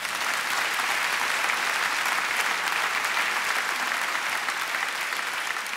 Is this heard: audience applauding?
yes